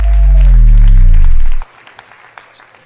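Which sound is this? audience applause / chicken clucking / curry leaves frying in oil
audience applause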